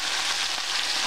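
Pork tenderloin stir-frying in a pan as soy sauce goes in, a loud, steady, close hiss of sizzling with no talking over it.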